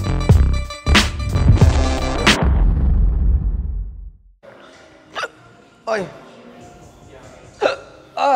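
Hiccups from someone who ate too fast, several sharp abrupt bursts spaced a second or two apart, coming after loud noisy activity and close to the listener.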